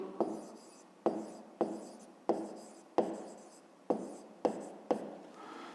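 Pen strokes scratch across paper while a math exercise is worked out, a run of eight sharp, evenly spaced writing strokes that each start crisp and fade out, close and clear with no talk.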